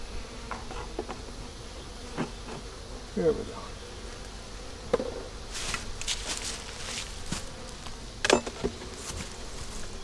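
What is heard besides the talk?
honey bees buzzing around hive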